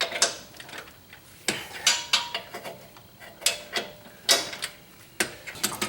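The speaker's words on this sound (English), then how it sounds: "I'm pulling off the longer torque wrench to loosen these up." Long torque wrench loosening 22 mm suspension bushing bolts on a Jeep JK: a run of sharp metallic ratchet clicks in uneven bursts, close by, with no talking.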